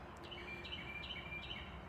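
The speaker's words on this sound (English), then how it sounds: "The birds are out, the sun." Morning birdsong outdoors on a city farm: faint, thin chirps repeating a few times over a soft steady background, quiet and somewhat distant.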